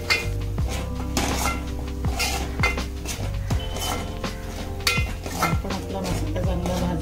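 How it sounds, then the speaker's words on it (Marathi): Red chilli masala for crab curry being stirred and sautéed in a pan, with repeated metal spoon scrapes and clinks against the pot at an uneven rhythm, close up and moderately loud. "आपण मसाल्यावरती परतून घेऊया।"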